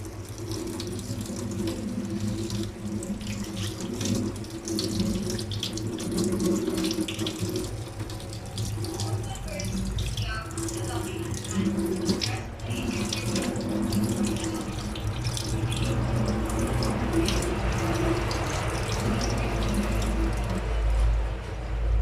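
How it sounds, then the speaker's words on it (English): Tap water runs continuously into a sink while hands are rinsed during a handwashing demonstration, a steady close splashing stream with no pauses. "we will need to rinse our hands after"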